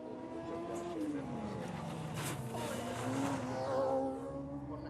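Motorcycle road racing on the Imatra street circuit: high-pitched racing engines rise and fall as bikes pass close by, under a steady crowd and commentary-like voice in the background.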